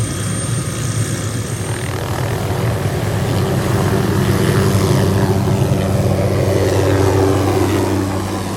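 A continuous propeller aircraft engine drones steadily, loud and rumbling, with the tone shifting slightly as it builds, no voices present.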